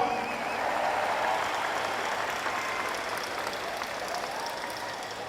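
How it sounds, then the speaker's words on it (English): A school district educators' audience at a motivational talk breaks into sustained, dense applause that stays steady and full for several seconds before easing slightly. "Give him a round of applause."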